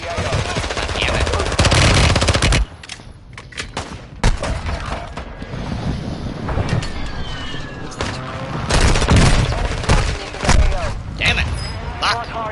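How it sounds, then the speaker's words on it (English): Friendly airstrike explosions and dense automatic gunfire in a military shooter video game, with loud bursts of rapid fire and heavy blasts running almost continuously, briefly dipping before surging again, with voices mixed in. "Friendly airstrike in the AO."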